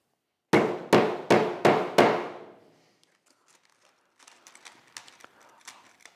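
A hammer pounds inserts into a part for a DIY CNC router build, with five loud, ringing blows in an even rhythm followed by softer, scattered taps.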